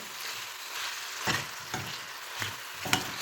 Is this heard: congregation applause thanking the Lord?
no